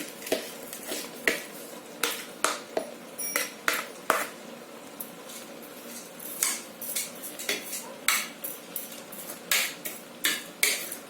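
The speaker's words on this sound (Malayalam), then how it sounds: "ഇനി ഇതിലേക്ക് നമുക്ക് അരി ഇട്ട് കൊടുക്കാം." About two glasses of washed, unsoaked rice poured into a pressure cooker for chicken biryani, giving a run of sharp clinks and rattles of grains and utensil against the metal pot, close and fairly quiet, with no voices.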